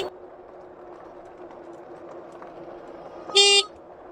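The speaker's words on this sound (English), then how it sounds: "let me show you this horn right here" A Pidzoom FH60 finger horn mounted on an e-bike sounds one loud, steady honk lasting about a third of a second, close and clear above low constant background hum.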